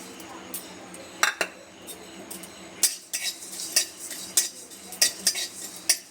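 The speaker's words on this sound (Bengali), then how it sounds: "এ কটা আমি ভেজে নেবো শুকনো খোলা" Whole cloves, cumin, cardamom, cinnamon and coriander dry-roast in a kadai, with a spoon clinking and scraping against the metal in irregular sharp taps over a faint rustle, fairly quiet and without talk.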